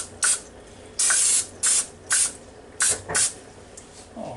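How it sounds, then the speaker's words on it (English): Short hissing bursts of Pam cooking spray land on chicken pieces in an Instant Vortex air fryer. There are about six quick sprays at an uneven rhythm, close and crisp, with quiet gaps between them. "we'll go ahead and put a little bit more cooking spray on them"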